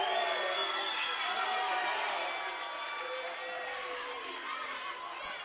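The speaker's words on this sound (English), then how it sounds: "You hear in the Leake crowd what they think of it." Crowd at a high school district semifinal basketball game in a gym reacting to a foul call, a loud sustained roar of voices and shouting that eases slightly after the first two seconds.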